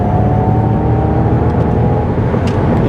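A Ford Mustang Mach-E GT electric car accelerates hard with a loud, steady whir and heavy road rumble that stay constant throughout, with no pauses or engine note.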